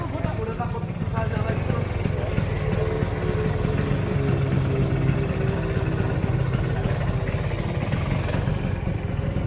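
A Vespa PX scooter engine runs steadily after starting, a close, continuous low idling putter with some mechanical clatter, while people talk over it throughout.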